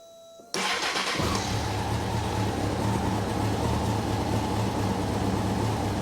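A rebuilt Honda Fireblade 954 motorcycle cranks briefly, then fires up and settles into a loud, steady, close-up idle with a constant mechanical rumble. No voices are heard.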